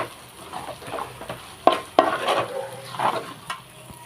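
Onions frying in a pan as chili powder is stirred through them for a crab dish: a steady low sizzle under a few sharp spoon scrapes and clacks against the pan, close up and with no talk.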